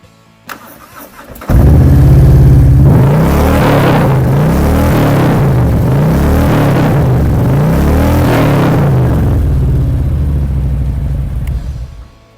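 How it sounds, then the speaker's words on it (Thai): A 2024 Harley-Davidson Ultra Limited 114 with chrome CFR exhaust tips starts up, then its V-twin runs with a loud, close, lumpy rumble and several throttle blips before shutting off. "เดี๋ยวนี้ลองเสียงเครื่องกันหน่อยครับ"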